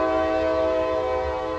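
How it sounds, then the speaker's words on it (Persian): A toy train horn sounds one continuous, loud, steady electronic tone, held without a break. "قطار فاطمه را سعی کنین"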